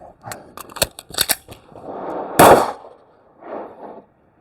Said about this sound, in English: tap rack, then lock slide, mag out, 2 racks, new mag in, rack, shoot.